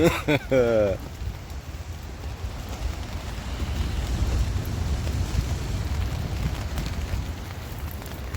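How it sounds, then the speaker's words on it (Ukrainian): Rain patters and splashes steadily on a surface close by, mixed with gusts of wind, after a brief voice at the very start. "ляпає дощ"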